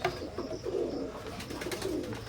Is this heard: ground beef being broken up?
no